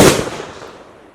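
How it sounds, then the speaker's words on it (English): A firecracker goes off with one sharp, loud bang, followed by a short echoing tail that dies away within a second. "You lit off one of those firecrackers, didn't you?"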